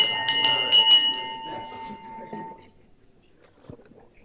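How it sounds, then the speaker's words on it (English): A bell rings out several times to call people in, bright strikes ringing clearly in the first two seconds and then fading into quiet, with faint voices in the background. "Ring in the bell."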